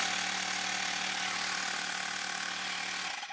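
A portable air compressor runs loudly and steadily with a harsh mechanical rattle and hiss, then cuts off abruptly at the end.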